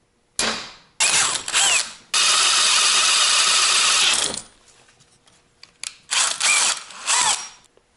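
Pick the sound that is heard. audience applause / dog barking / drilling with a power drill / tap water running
drilling with a power drill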